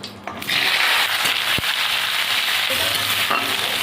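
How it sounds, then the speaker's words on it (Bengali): Jackfruit goes into hot oil with cumin, bay leaf, dried chilli, cinnamon, cloves and cardamom, and a loud, dense sizzle starts abruptly and holds steady, broken by one sharp knock. "এটাকে ভালো করে আমি ভেজে নেব"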